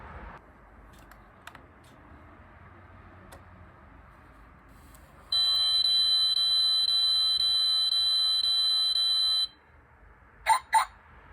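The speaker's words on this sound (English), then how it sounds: "Same thing, sets the alarm off." A car alarm, set off by opening the passenger door, sounds as a loud, steady electronic tone held for about four seconds, then cuts out, followed by two short sharp chirps.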